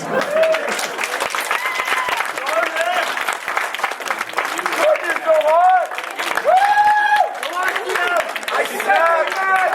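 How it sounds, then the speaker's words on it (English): A wedding reception crowd claps and cheers loudly and continuously, with excited voices and whoops rising over the steady applause. "Give yourself a round of applause"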